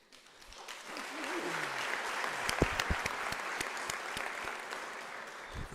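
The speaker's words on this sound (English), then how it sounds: "Thank you for that round of applause" Applause from the audience at a university opening ceremony after a choir's performance swells up from near quiet into sustained clapping, with sharp individual claps standing out and a voice briefly audible early on.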